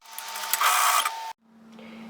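A domestic sewing machine runs in one steady whirring burst while stitching a seam on a tailored vest, then stops abruptly, leaving a low hum; close and without talk.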